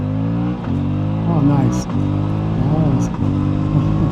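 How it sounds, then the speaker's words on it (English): An Aprilia Tuono 457 motorcycle pulls a half-throttle roll-on, its engine note climbing steadily and loudly close to the rider. It dips briefly between gears before rising again, and a voice speaks briefly over it. "let's just do a little roll-on test here with half throttle"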